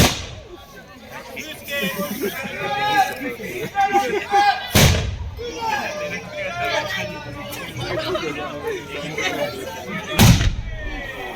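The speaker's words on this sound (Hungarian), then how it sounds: "Szóltak az ágyuk és harsogtak a puskák." Cannons and rifles fire at a castle festival, with two sharp booming blasts several seconds apart cutting through a dense crowd babble of chatter and talk.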